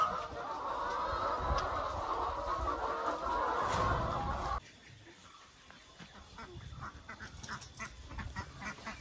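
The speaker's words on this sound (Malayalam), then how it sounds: "താറാവും കൂടി കഴിയുകയാണ് വിഗോദയുടെ കൂടെ" Ducks and chickens call and cluck faintly outdoors, first under a steady wash of noise, then more clearly with scattered quacks after it cuts away.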